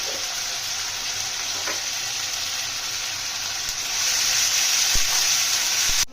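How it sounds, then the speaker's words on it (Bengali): Spice paste sizzling and frying in hot oil in a pan, cooked with whole cardamom and salt for khichuri with chicken kosha; a steady, close, loud hiss with occasional small pops, growing a little louder toward the end. "পেস্টটা দিয়ে দেবো মশলাটা দিয়ে দিয়েছি এর মধ্যে একটু নুন দিয়ে দেবো তাহলে ছিটাবে কম"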